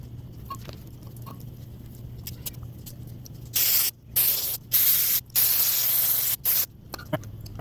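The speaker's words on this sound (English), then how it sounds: "I'm going to use carb cleaner." Carb cleaner sprayed onto a dirty lawnmower air filter in its case on a Briggs and Stratton 300e 125cc mower, a series of five or six loud hissing aerosol bursts after a quiet start.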